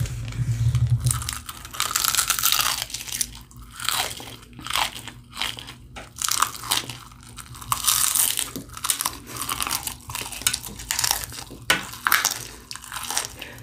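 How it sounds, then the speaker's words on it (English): Deep fried chicken is crunched and chewed up close in loud, repeated bites, each crisp crackle followed by quieter chewing, with no talk over it. "Let me hear your crunch sound."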